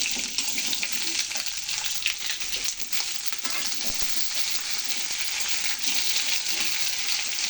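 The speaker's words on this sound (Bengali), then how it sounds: "এটাও কিছু সময় ভেজে নেব।" Vegetables sizzle in a frying pan with a constant bright crackling hiss, close and steady, with occasional soft stirring knocks underneath and no voices.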